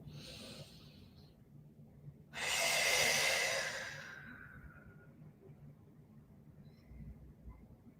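A deep breath during a gentle stretching exercise: a soft breath at first, then one long, loud, airy exhale lasting a few seconds that fades into quiet.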